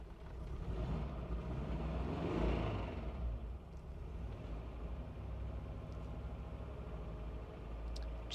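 A 1970s Citroen GS engine running just after starting, held on the accelerator, producing a steady loud hum with a brief swell in revs around the early part, no voices.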